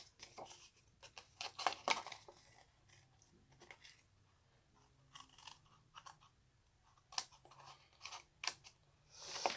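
Scissors snip through card stock, a series of crisp irregular cuts and crunches up close, spaced by short pauses, with light handling rustles between them.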